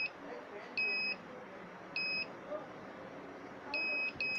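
Short electronic buzzer beeps from an ultrasonic obstacle sensor on a navigation aid for blind people, sounding intermittently, some single and some in pairs, over a quiet background hiss.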